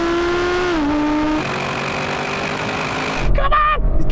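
Audi RS6 GT and Audi R8 GT accelerate hard side by side in a drag race, a loud, close engine note rising and then dipping at a gear change before climbing again, with a brief rush of wind and tyre noise near the end.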